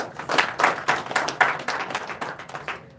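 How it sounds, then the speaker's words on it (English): A crowd at a Sri Guru Nanak Dev Ji Gurpurab celebration in the NSW Parliament, Sydney, applauds: moderate, uneven clapping from a modest audience that tapers off after about three seconds, with no voices. "Can we please get a round of applause for him?"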